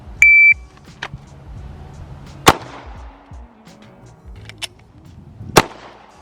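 Sharp pistol gunshots at an outdoor shooting range, handguns such as a Glock 43X, Sig 365 XL or Springfield Hellcat: two loud isolated cracks about three seconds apart, plus a few fainter distant pops and a brief electronic beep at the start.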